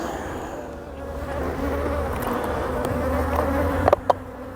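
Honey bees buzz steadily around outdoor beehives, a dense, continuous hum that swells slightly and holds close, with a couple of brief knocks near the end.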